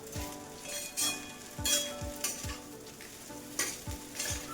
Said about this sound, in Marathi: आता सर्व साहित्य मिक्स करून घ्यायचं आहे आणि छान परतून घ्यायची आहे